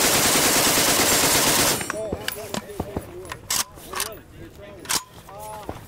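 An AK-pattern rifle fitted with a Slide Fire bump-fire stock fires a loud sustained burst, then a string of sharp separate shots and short bursts at close range, with someone talking between them.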